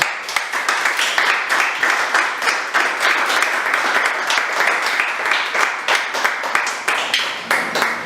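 A church congregation applauds together, a dense, steady wash of claps filling the space close and loud throughout, with no voices rising above it.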